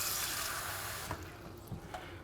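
Kitchen tap water running into a container for fritter batter, a steady hissing stream that fills the clip, loud and close, with a few light knocks near the end.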